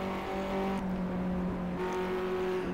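BMW car engine in the Project CARS racing game, a steady, close engine hum with a sustained tonal drone and slight pitch shifts, heard alone without talk.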